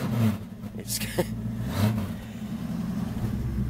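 A 1969 Ford Falcon wagon idles steadily nearby, a low, even rumble from an engine that will soon need a muffler, with a couple of brief clanks over the hum.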